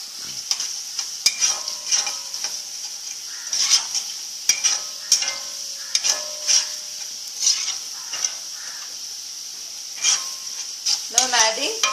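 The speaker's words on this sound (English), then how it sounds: "We'll fry it for just 1 or 2 minutes more." Potato pieces for Chinese-style chilli potatoes, glazed with a little sugar, sizzle in a pan while being stirred, with repeated scraping strokes and clinks every second or so over a constant frying hiss.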